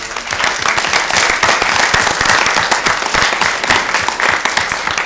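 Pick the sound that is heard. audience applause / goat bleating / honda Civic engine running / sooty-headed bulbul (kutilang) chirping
audience applause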